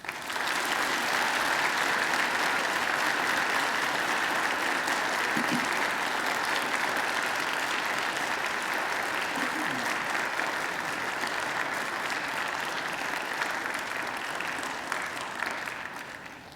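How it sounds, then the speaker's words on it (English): Graduates at a Macquarie University ceremony applaud their families and friends, a long, dense and sustained round of clapping from a large hall crowd that tapers off near the end. "And now I invite you to give them a mighty round of applause"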